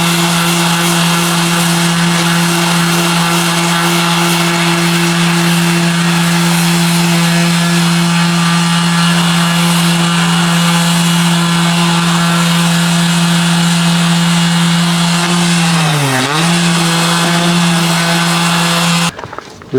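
A power tool scrapes the old, crumbling seal off a boat's through-hull fitting, running loud and steady with a droning hum. Near the end the pitch dips sharply, then the tool cuts off.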